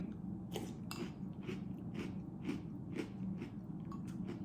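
Someone chews crunchy Cocoa Puffs chocolate cereal close to the mic, with a steady run of soft crunching bites repeating about twice a second under quiet background noise.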